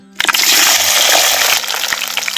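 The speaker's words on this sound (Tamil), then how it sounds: "உரிச்ச சின்ன வெங்காயம் கால் கிலோ சேர்த்துக்கிறேன்" A quarter kilo of peeled small onions hits hot oil for a Chettinad-style kara kuzhambu, bursting into a sudden loud sizzle that settles into steady crackling frying.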